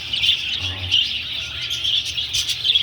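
Small birds chirp and tweet continuously inside a breeding cage during breeding season, a steady, fairly close chorus of high calls with occasional louder squawks and no talking.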